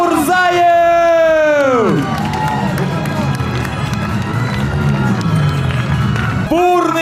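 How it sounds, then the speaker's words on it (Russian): Large crowd at a celebration cheers and roars for Olympic champion Khasan Khalmurzaev, loud sustained whooping and hubbub with an announcer's voice at the start and end. "Бурные аплодисменты нашему олимпийскому чемпиону!"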